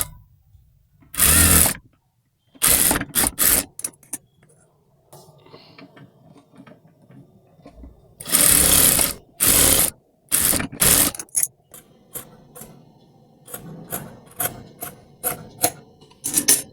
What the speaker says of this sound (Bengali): তো আমরা এখানে একটি সেলাই করে দেব।